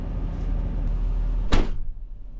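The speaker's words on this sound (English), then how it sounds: "Let me shut the door so y'all can hear me." An excavator cab door slams shut once with a sharp, solid thud about midway, cutting off the steady outdoor engine rumble that fills the cab before it, leaving a quieter, muffled interior afterward.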